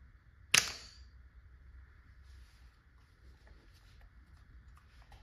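A Tippmann TiPX pistol running on a 12-gram CO2 cartridge with a stock spool valve and a 14-inch barrel fires once, a single sharp, loud crack followed by a short decay, then only quiet background hiss.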